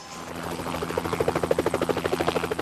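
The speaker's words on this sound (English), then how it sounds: "helicopter," A helicopter heard close and steady, its rotor blades thumping in a fast, regular pulse over a low engine drone, with no voices.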